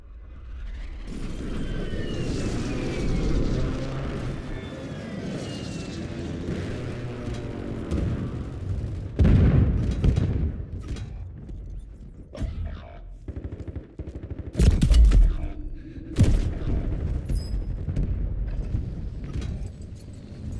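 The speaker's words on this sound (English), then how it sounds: "Friendly precision airstrike inbound." Precision airstrike blasts in the Warzone battle royale, with deep heavy booms landing amid mechanical clanks and rattling gunfire, two strongest impacts standing out loud against a busy game soundscape.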